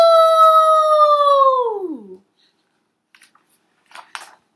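A voice imitates a long coyote howl, sliding downward and fading out, followed by a short pause and a few faint clicks and rustles.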